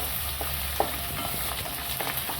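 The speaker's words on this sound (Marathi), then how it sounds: "आपण हे तळलेला कांदा थोडासा ठेवला होता तो टाकायचा आणि चांगलं परतून घ्यायचं" Masala with coriander and fried onion sautéed in a pan for a hotel-style mushroom masala, giving a steady low sizzle with a few soft scraping stirs, close and fairly quiet, no voices.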